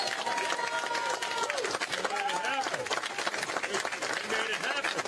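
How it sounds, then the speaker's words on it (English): A crowd at a Fall River mayoral primary night gathering claps and cheers, with a dense, steady wash of applause mixed with excited shouting voices across the whole stretch. "why don't we give a big round of applause?"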